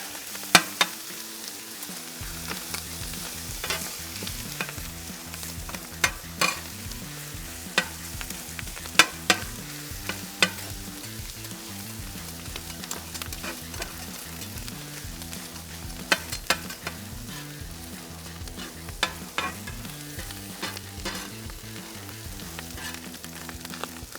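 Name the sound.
chopping meat on a sizzling griddle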